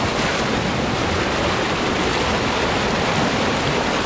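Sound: river water flowing

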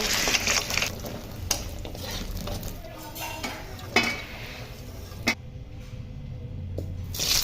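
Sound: lentil bori frying in mustard oil in a wok

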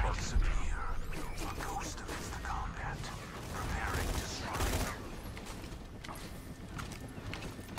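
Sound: Roland's Scorpio assault rifle gunfire in video game Borderlands 2

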